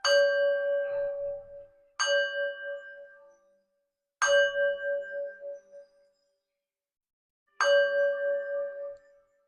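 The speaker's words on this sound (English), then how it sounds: "I'm going to ring my singing bell" A singing bell is struck four times, each strike a clear, bright ring with steady overtones that decays slowly, with pauses of about two to three seconds between rings.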